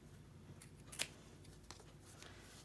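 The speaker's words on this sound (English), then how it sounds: "I'm gonna just cut the end piece." Scissors snip through the end piece of fabric for a handmade bow, a single sharp close cut standing out against a quiet room hum, with a couple of fainter small snips after it.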